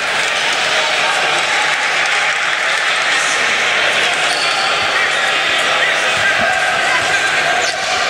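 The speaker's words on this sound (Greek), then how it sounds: "Το ζεστό χειροκρότημα τώρα." A basketball arena crowd at a Greek Basket League game between PAOK and Rethymno Cretan Kings applauds loudly, a dense sustained roar of clapping with a commentator talking over it.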